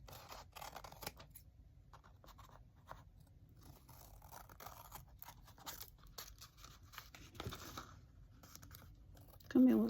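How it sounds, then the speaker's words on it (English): Scissors trim a paper page of a chocolate-themed journal, producing quiet, close snipping and crisp paper rustles in a hushed setting. "And then let's just go in here and trim this off."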